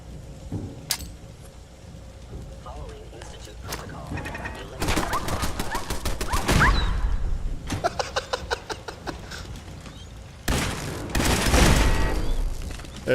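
Combat in Fallout 4 with a grenade throw, heard as loud booming blasts and rapid bursts of gunfire at several points, mixed with clatter and background game sound.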